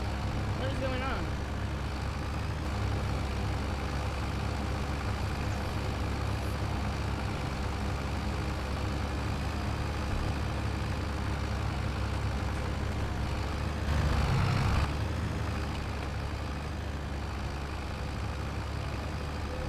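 Ride-on lawn mower engine in the video game Farming Simulator 25, a steady low drone that runs unbroken throughout, with a brief swell in the middle.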